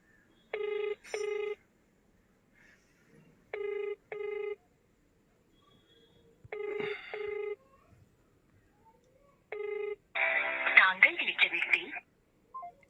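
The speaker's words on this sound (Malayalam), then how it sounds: "ഇപ്പം റിംഗ് ആണ് കേൾക്കണേ" A phone's ringback tone repeats in paired bursts on a call, steady and clear with gaps of near silence between rings, ending in a short stretch of garbled audio.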